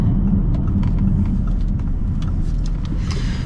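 Muffled, steady engine growl from an Audi RS6 driving in dynamic mode, heard from inside the cabin as a low continuous rumble with road noise and faint ticking, no talking.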